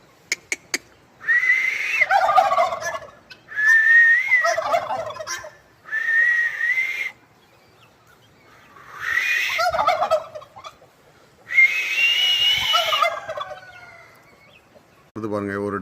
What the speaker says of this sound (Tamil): இப்போ பாருங்கள், வான்கோழி இருக்குங்களா?